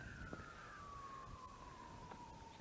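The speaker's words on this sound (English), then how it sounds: "There's the sirens." A single faint emergency siren sounds far off, its tone sliding slowly downward in a long steady wail under light outdoor background noise during a countryside hike near a fire.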